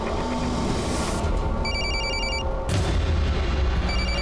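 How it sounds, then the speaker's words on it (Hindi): A phone rings after a call is placed in a crime drama scene, sounding as repeated electronic tone bursts over dense, loud background music and rumbling booms. "उसके फोन पर फोन कीजिए जल्दी"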